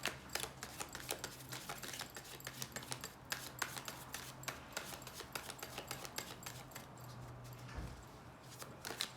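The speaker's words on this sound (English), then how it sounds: "Last shuffle, then I take from the middle" Tarot cards shuffled by hand at close range, a quick steady run of soft papery riffles and flicks with a brief louder rustle near the end, over a faint steady hum.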